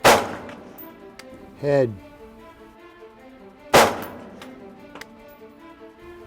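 Rifle shots crack at an army qualification range, two sharp loud reports about four seconds apart with a short metallic rattle between them, and a voice speaks briefly.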